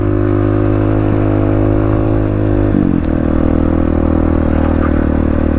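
A dirt bike rides along the edge of a creek, its engine a loud steady close drone with a brief shift in pitch midway, with no talking.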